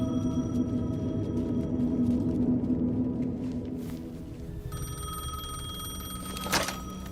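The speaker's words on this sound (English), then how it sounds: "The payphone was ringing." A payphone rings in Alan Wake 2: a steady electronic ringing tone over a low ambient rumble, with a brief louder burst near the end.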